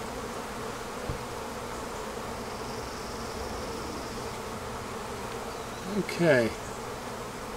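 Honey bees droning steadily in an opened beehive, a close continuous buzz with a louder bee sweeping past near the end; a voice speaks briefly.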